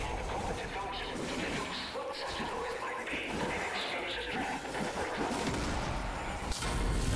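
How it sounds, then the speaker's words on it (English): Dense video game combat audio full of booming blasts and a fiery explosion with crashing impacts, with gunfire-like bursts layered throughout. "those guys get taken out in a nice fiery explosion"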